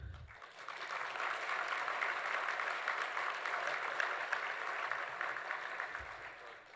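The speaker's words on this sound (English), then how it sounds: "A big round of applause for all of them, please." An audience at a leadership luncheon breaks into steady applause, a dense, even patter of many hands that swells quickly and holds for several seconds before ending abruptly, moderately quiet and roomy.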